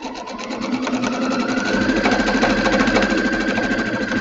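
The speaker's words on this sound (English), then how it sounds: "I was trying to be speed sewing just now" A sewing machine runs fast and steady while stitching a placemat made from a dish mat and jelly roll fabric strips, its rapid mechanical whir loud and continuous throughout, with no talking.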